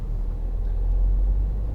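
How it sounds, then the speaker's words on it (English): A car comes along the road and goes by, heard as a steady low rumble from inside a 2014 Volkswagen Tiguan 2.0 TDI BlueMotion idling in third gear. The rumble stays fairly even throughout, with no talk. "oh, there's a car coming down"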